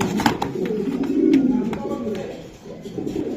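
Racing pigeons cooing at a Bangladeshi pigeon sale, low soft coos repeating through steady background murmur and noise.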